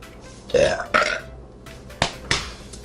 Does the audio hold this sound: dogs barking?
no